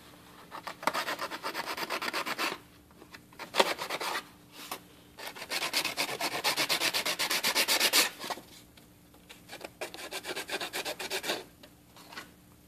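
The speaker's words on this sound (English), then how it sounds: "with the heavier grit sandpaper, you'll move to the lighter grit sandpaper" Sandpaper rubbing back and forth over a handmade wooden crochet hook, heavy grit shaping the edges, in close continuous bursts of abrasive scraping separated by short pauses.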